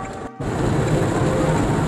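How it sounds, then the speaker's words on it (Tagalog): Heavy rain pours steadily in Biñan, a dense, loud, continuous roar of rain on surfaces after a brief dip near the start, with no voices. "Lakas na ng ulan dito sa Binyo, no?"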